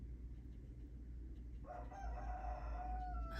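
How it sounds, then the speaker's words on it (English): A rooster crows from somewhere outside, its harmonic call rising over a steady blustery background of wind noise. "And then we got the rooster again,"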